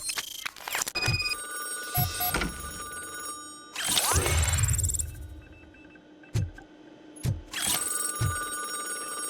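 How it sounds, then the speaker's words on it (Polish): A telephone rings inside the video game RoboCop Rogue City: repeated bursts of ringing separated by short gaps, mixed with mechanical clicks and clatter. "Dzwoni sobie telefon,"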